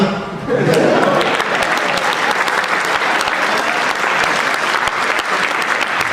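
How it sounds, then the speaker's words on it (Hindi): Strong, dense applause from the audience at a Hindi comic poetry gathering swells up after a brief lead-in and carries on evenly, close and loud. "एक एक सुधीर श्रोता से तालियां चाहता हूं"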